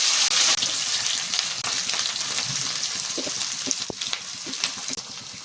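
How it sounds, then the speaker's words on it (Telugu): Finely chopped onions fry in hot oil with a loud, steady crackling sizzle that runs throughout, unaccompanied by voices. "ఇవన్నీ సన్నంగా చేసుకొని ఆయిల్లో వేసుకోవాలి."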